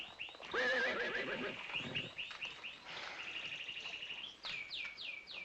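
A horse whinnies loudly near the start, a long shaky neigh, followed by fainter snorts and high chirping calls, with quick descending squeals near the end.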